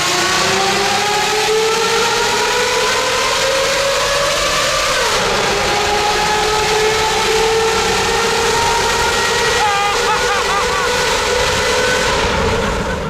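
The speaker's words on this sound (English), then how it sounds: "Mr. Sasaki completed the S600 V12 exhaust, which delivered a true F1 car sound that was like no other." A Mercedes S600 V12 with a custom exhaust screams in a continuous high-pitched wail like a Formula 1 car, loud and close, its pitch climbing, dipping sharply near the middle, then climbing again through shifts.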